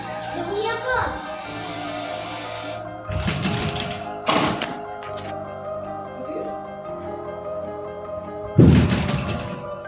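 Knocking on a solid door comes as a few separate bursts of thuds spaced several seconds apart, loud and close, with a quieter hum and faint voices in between.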